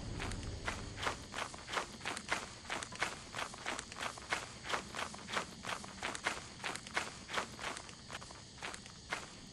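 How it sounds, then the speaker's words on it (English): Crunching footsteps in the video game Lethal Company sound quietly in a quick, even rhythm of about two steps per second, continuing alone for several seconds. "Heard a footstep crunch."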